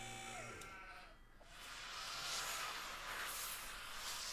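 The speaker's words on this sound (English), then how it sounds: "There's also another sheep" A sheep bleats in the Nancy Drew video game during a shearing scene. One drawn-out, wavering bleat sounds near and fairly quiet, followed by a soft hissing buzz like electric shears.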